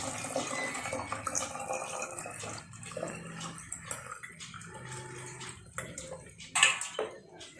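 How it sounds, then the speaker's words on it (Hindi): Hot water poured into an empty bottle, a close uneven splashing and trickling with gurgling surges and a brief louder spatter near the end. "उस गर्म पानी को हमें चाहिए कि इस खाली बोतल में भर दें।"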